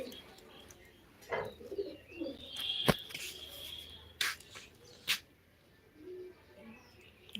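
Pigeons at a kabootar bazi flying contest give soft, intermittent coos amid sharp clicks and scattered noises, while people talk nearby.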